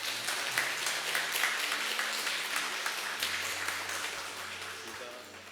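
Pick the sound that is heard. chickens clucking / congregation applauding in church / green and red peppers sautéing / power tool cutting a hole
congregation applauding in church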